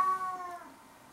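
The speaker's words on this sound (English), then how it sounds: "That's a cat that you can probably hear ruining yet another video." A single cat meow, close and clear, falling away over about half a second.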